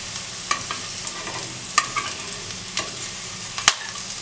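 Okra sautéing in a pan until wilted and no longer slimy, for a tomato curry: a steady close sizzle with sharp spatula scrapes and clicks at irregular intervals, no voices.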